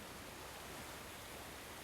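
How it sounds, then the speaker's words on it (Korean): Waterfall roaring in the film A Quiet Place, a steady, dense, broadband wash of rushing water with no break or other sound. "폭포 소리가 워낙 커서 목소리가 묻혀 괴물들에게 들리지 않아 안전한 것입니다"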